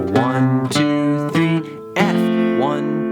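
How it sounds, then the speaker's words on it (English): Acoustic guitar strumming the chords of a song, four bright strums each left to ring out and decay, close and clear with no talking. "Just letting those chords ring out."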